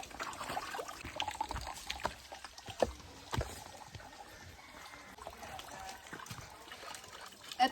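Water trickles slowly into buckets at a communal water source in Sitio Bangad. The faint, thin flow is broken by a few soft knocks and clunks, with quiet background murmur.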